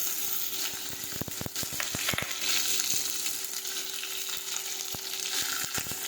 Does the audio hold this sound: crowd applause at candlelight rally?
no